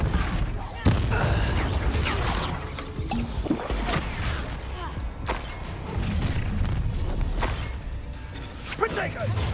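The Incendio fire spell is cast in the Hogwarts Legacy game, with loud bursts and crashing impacts over rumbling effects, repeated several times amid battle noise as a voice talks throughout.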